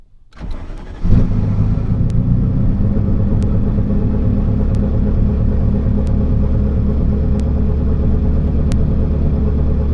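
A Ferrari F40 engine starts with a crank, then settles into a loud, steady rumbling idle with a deep throaty note that runs on close by.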